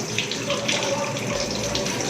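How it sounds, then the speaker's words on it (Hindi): Tap water runs steadily into a sink while hands are washed with soap in a restaurant bathroom in Karachi, an even close splash with faint rubbing and no voices. "अच्छी तरह से हाथ वॉश करें,"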